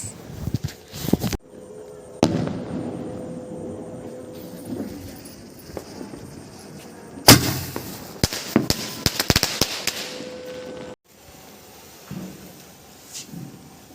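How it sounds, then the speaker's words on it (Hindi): Firecracker bombs exploding outdoors at night during Diwali, sharp loud bangs with crackling bursts around the start and a dense cluster of blasts midway, followed by scattered pops and rustle. "तो पापा जला रहे थे आज का हैप्पी एंडिंग वाला बॉम्ब, यानी कि हैप्पी दिवाली।"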